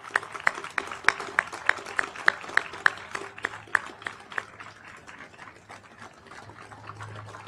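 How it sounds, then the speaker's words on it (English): At a cadet corps memorial retreat ceremony, hands clap in a slow, evenly spaced rhythm, about a dozen crisp beats, which then thin out and fade into a quiet, low background. "Please join me in a round of applause."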